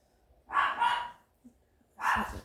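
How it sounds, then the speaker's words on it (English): A dog gives two short bursts of barking, close by, separated by a brief quiet gap. "So that's my dog. Keep nosing out the window."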